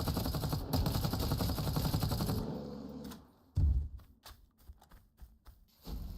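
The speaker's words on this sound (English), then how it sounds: "Now we are going to go ahead and shoot this bear because this bear is blocking." Gunfire aimed at a bear in the survival game Dysterra: a dense, rapid automatic burst lasting over two seconds, then scattered single shots and sharp impacts after a short pause, loud and close.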